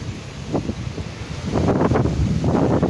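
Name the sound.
strong wind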